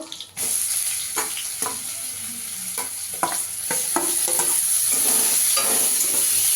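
Two grated onions sizzle steadily in a hot pan, with intermittent scraping and stirring knocks over a constant frying hiss.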